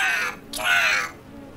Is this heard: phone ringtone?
no